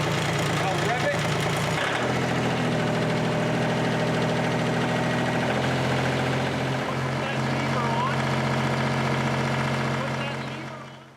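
Kubota engine running at a steady drone that steps up in pitch as it is revved, loud and continuous before tailing off at the end.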